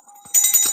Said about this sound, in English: Shall I ring your bell?